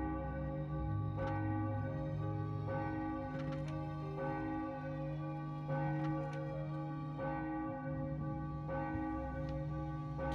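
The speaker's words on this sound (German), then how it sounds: "Der Glockenmechanismus ist kaputt, doch die Glocke schlägt unermüdlich weiter." A haunted church bell tolls with a broken mechanism in the Enigmatis game, its rich ringing strikes repeating steadily every second or so over a sustained, eerie drone, loud and close with no talking.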